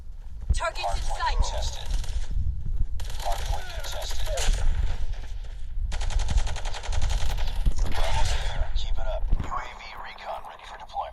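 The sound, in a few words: XPR rifle gunfire in Call of Duty Mobile video game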